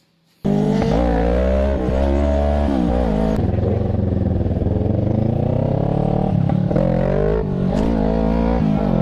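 A Kawasaki ER6N motorcycle engine revved hard several times, rising and falling in pitch with a brief dip in the middle, loud and close, with no talk.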